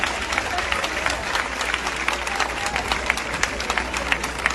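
Crowd at a religious gathering breaking into steady, dense applause: many hands clapping together in a loud, even wash that holds the whole time, with some voices faintly underneath.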